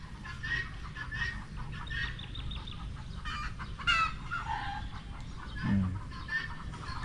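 Chickens cluck softly at a distance on a Philippine farm, scattered short calls over a low, steady background hum.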